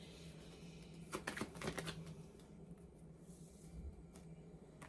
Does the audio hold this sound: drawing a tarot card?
yes